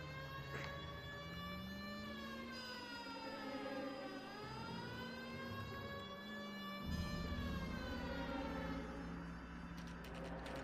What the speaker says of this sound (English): Y'all hear the siren?